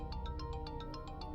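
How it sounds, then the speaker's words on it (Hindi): A mobile phone rings with an incoming call, a repeating bright electronic ringtone pulsing at a steady quick rhythm over a low background hum, close and moderately loud in an indoor domestic setting. "किसकी कॉल है? रिसीव क्यों नहीं कर रही? फोन उठाओ ना।"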